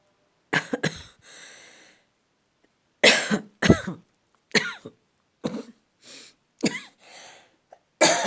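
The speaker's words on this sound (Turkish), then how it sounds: "Öksürüyorsam da özür dilerim." A woman with the flu coughs repeatedly at close range, harsh bursts in clusters of two or three separated by short pauses, with throat clearing between them.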